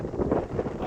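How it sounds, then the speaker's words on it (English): Gusty wind buffeting the microphone, a brief low roaring rush with no voices. "It's windy and hot."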